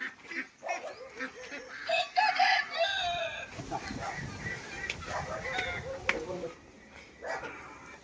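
Native country hens cluck on a poultry farm where eggs are set under a hen for hatching, short clucks and cackles rising loudly near the start then continuing intermittently amid other farmyard sounds and brief voices.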